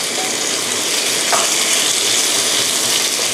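Squid hitting a hot wok with chili and garlic over high heat, a loud steady sizzle of frying with no talk throughout.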